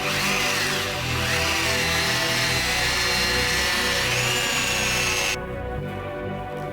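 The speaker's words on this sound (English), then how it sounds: "He's just buffing it. Just bringing the shine of the lacquer down." A power buffer whirs continuously against car lacquer, a loud close steady motor drone with shifting pitch that drops abruptly in level near the end.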